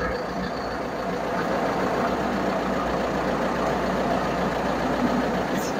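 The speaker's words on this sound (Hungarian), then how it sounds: "Nagyon kulturáltan jár a motor, és 800-as az alapjárati fordulatszáma" A Solis 90 tractor's diesel engine idles just after starting, a smooth, steady low rumble near 800 rpm that holds unchanged throughout, with no voices.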